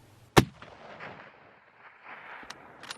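A single sharp rifle shot cracks out loud and close while hunting red stags in New Zealand, then dies away into quiet outdoor air, with faint thumps near the end.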